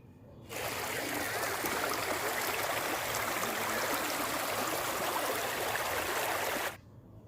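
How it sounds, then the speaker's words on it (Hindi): Loud, steady rush of flowing stream water, continuous and close, starting and stopping abruptly with no voices. "और पानी की आवाज़ देखो कितनी तेज़ आती है"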